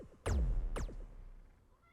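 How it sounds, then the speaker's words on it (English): A house cat gives two short meows close by, coming in quick succession with nothing else heard. "That's the cat I'm talking to"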